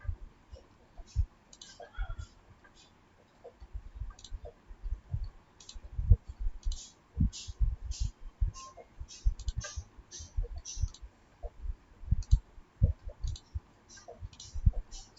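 Computer mouse clicks come close and quiet in an irregular series of sharp ticks, mixed with faint keyboard taps and soft, low speech.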